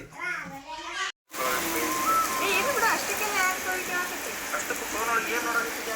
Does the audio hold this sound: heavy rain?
yes